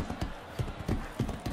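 Rhythmic hoofbeat clip-clop from a horse in the motion-controlled video game Motion Sports, a quick regular trot of hollow thuds heard clearly on its own for a brief moment.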